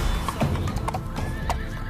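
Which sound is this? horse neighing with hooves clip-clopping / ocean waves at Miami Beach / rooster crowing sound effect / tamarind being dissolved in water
horse neighing with hooves clip-clopping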